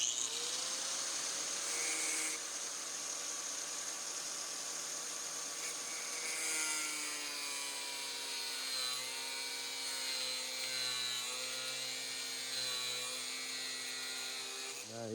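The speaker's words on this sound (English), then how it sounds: "you just kind of cut it right between the bristles like that" A cut-off disc slices between the bristles of a wire brush during a logging winch repair, giving a continuous high grinding whine that shifts and rises in pitch partway through, fairly close, with no talk.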